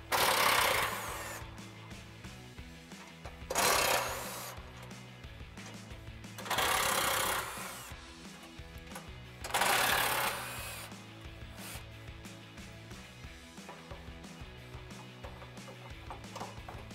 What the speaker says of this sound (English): we'll grab our 13 mil socket on our impact, remove the four outer bolts